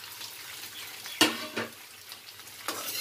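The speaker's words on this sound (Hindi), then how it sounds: "जब भी थोड़ा भून जाए ऑयल में तो फिर हम इसमें ये आलू डाल देंगे" Potato pieces stirred into hot oil in a pan for an Uttarakhand-style radish and eggplant sabzi, giving a steady close sizzle with a few sharp scraping stirs, alone without talk.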